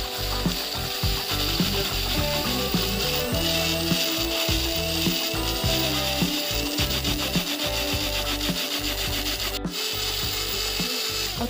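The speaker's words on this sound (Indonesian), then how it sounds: "Blender sampai halus." A kitchen blender grinds spices into a smooth paste for catfish-head gulai, a loud, steady whirring roar with a rough, gritty texture running unbroken throughout.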